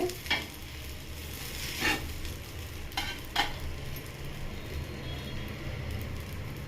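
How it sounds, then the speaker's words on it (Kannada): Oil spattering onto a dosa on a hot pan, a steady crackling sizzle with a few sharper pops near the start, fairly close and without any voices. "ಆಯಿಲ್ ಹಾಕ್ತಾ ಇದ್ದೀನಿ ನೋಡಿರಿ"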